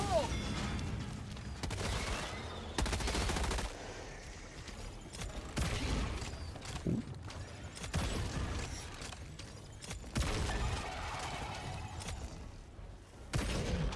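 Grenade blasts and rapid gunfire in Helldivers 2, several bursts of shots and booms spread across the stretch, moderately loud with mechanical clanks between them.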